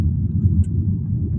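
A car slowing under braking on a road in Saudi Arabia, heard from inside as a steady low engine and road rumble, close and continuous with no sharp squeal.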